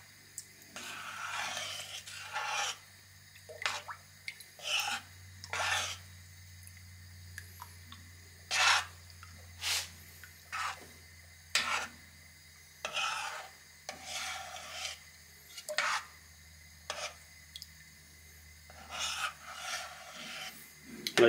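Honey being stirred in a pot to melt it for a large batch of mead, heard as repeated scraping, rubbing strokes against the container in an irregular rhythm, close and fairly quiet, with no talking.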